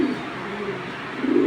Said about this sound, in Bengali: আসলে খাঁচার বাইরে কবুতরগুলো সবসময় ডাকতে চায় না